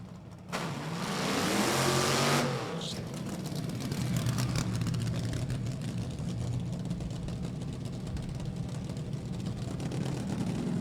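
A fuel-injected nitromethane drag racing car revs hard at a drag strip, a loud engine roar that surges up and then settles into a sustained rumble.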